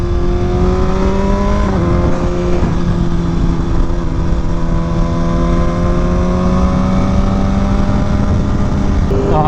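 BMW S1000RR drag-setup motorcycle engine running loud and close, a steady droning exhaust note with a sudden gear change that drops the pitch before it climbs slowly again.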